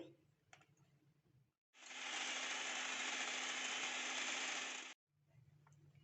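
An electric beater whirs loudly and steadily for about three seconds, mixing strawberries into a mousse, with quieter handling clatter before and after.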